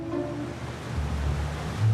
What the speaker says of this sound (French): On est entré dans l'eau.